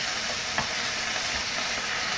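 Chicken sautéing with onions and garlic gives a steady, close sizzle and hiss in the pan, with a brief stirring scrape partway through.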